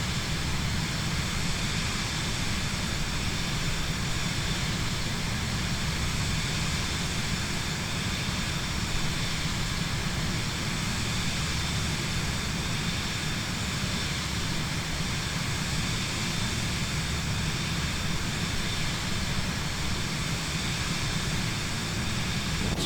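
Cirrus Jet engine in Microsoft Flight Simulator 2024, a steady, loud broadband roar with a low rumble that holds unchanged for the whole stretch, with no talking over it.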